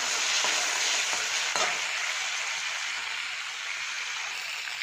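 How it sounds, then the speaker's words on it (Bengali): Prawns frying lightly in hot oil in a kadai, a steady dense sizzle close by with a few brief clinks of stirring near the start, no voices. "এবার চিংড়ি মাছটা আমি ভেজে নেব"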